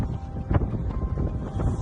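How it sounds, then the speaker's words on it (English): Outdoor wind buffeting a microphone during a bird repellent installation, a steady low rumble with gusty swells throughout the short stretch, no voices heard. "pardon the wind"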